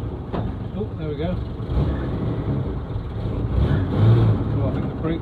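A Mercedes Unimog 404 truck, long left sitting outside, rolls with its engine rumbling low and steady, surging slightly as it moves, while someone talks over it.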